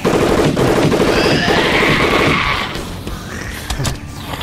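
Rapid gunfire effects in a Mega Bloks stop-motion animated battle, a loud dense burst of shots running for a couple of seconds before thinning into scattered cracks, with no talking.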